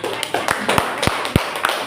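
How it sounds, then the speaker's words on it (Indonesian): A ninth-grade class clapping hands in a school classroom, a short burst of loose, uneven claps from a small group, fairly close, with faint voices underneath. "Baik, tepuk tangan semuanya."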